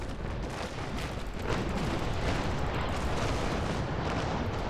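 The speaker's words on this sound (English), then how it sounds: "let's get my cannons around, and let's put a nice broadside into him" Cannons on a warship fire a sustained broadside in the Naval Action video game, a dense continuous roar of rolling booms with no pauses.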